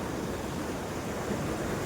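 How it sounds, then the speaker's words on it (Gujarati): A monsoon-swollen river rushes past in full flood, a broad, steady roar of water with no breaks and no voices. "ફૂલ નદી જાય રહી છે તમે જોઈ શકો"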